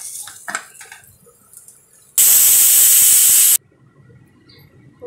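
A pressure cooker lets out one loud, steady, hissing whistle lasting over a second while cowpea dal cooks, with faint kitchen clatter before and after.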